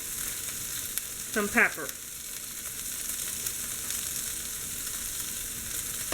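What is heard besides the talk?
corn cooking in a frying pan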